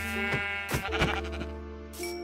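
A Minecraft sheep bleats several times in quick succession, close and clear, with short wavering calls separated by brief pauses.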